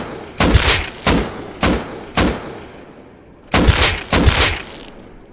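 Gunfire in the survival game Rust: six loud, sharp shots with booming tails, in two groups of four and two, spaced about half a second to a second apart.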